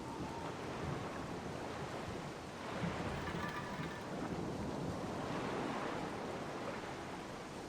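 Ocean waves below a cliff in the video game The Black Mirror make a steady, faint wash of surf with gentle swells. Wind-like rushing noise fills the background, and no one speaks.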